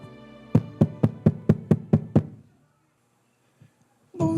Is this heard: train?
no